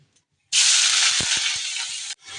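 Shrimp with onion, green chili, ginger paste and salt hit hot oil and burst into a loud, steady sizzle, close by and alone, lasting a couple of seconds before a brief stir and resuming.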